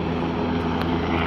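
A helicopter flying far below on the Kedarnath trek, its steady engine and rotor hum rising from a distance, even and unbroken with no talk over it.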